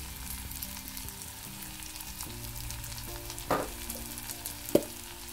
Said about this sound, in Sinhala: මේ ටික කවලම් කරලා තෙලෙන් තැඹෙන්න තියෙනවා ටික වෙලාවක්.